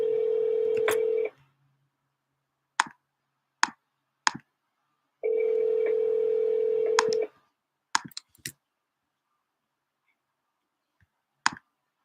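Touch-tone keypad dialing on a phone: two long steady tone bursts separated by sharp clicks and short beeps, loud and close, with no talking.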